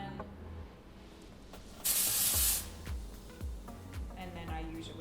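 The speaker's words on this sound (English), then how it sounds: "I'll lift the section up, spray from a little distance" A short, bright hiss of hairspray sprayed onto a lifted section of hair from a little distance during a ponytail upstyle, lasting under a second amid soft handling sounds.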